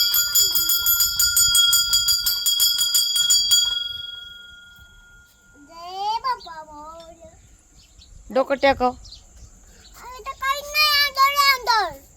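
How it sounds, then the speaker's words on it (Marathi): A bell rings in a rapid, bright trill for a few seconds, then stops; a voice and chirpy calls follow, outdoors on farmland. "नीट घंटी वाजवायची नीट वाजव नीट"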